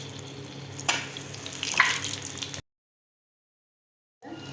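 Egg bonda deep frying in hot oil, a steady close crackling sizzle with a couple of brighter pops, cutting off into silence before resuming briefly at the end.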